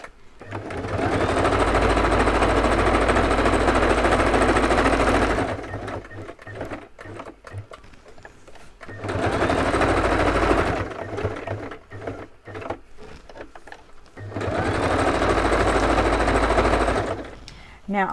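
A sewing machine stitching pockets made from packaging runs in three long, steady bursts of fast rhythmic clatter, separated by pauses filled with handling noises.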